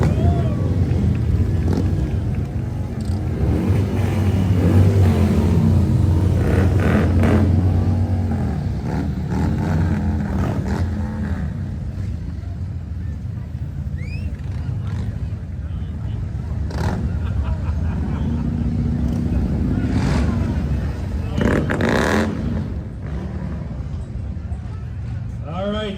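Loud, continuous rumble of large motorcycles rolling past at a St. Patrick's Day parade in Alexandria, Virginia, engines swelling and fading over about half a minute, with crowd noise and a voice speaking over the top.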